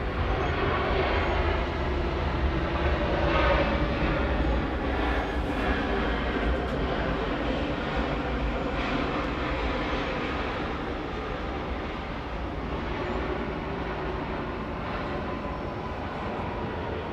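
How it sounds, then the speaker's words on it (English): A Boeing 767-400ER airliner arriving at Atlanta airport, with a steady, loud broadband engine roar holding throughout and easing slightly toward the end. "That one coming in from London Heathrow, flight 37. This one's a 767 400 ER."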